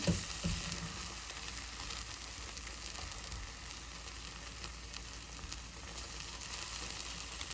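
Cheese being stirred into shakshuka in a hot pan, with a steady sizzle and frying hiss running throughout and a few soft scraping stirs near the start, close and continuous with no talking.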